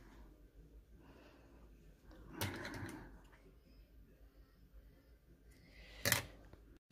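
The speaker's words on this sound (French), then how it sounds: "on va coudre endroit contre endroit" A sewing machine stitches fabric for a one-piece prayer abaya in short, quiet bursts of whirring, with a louder run near the end over a low, hushed room.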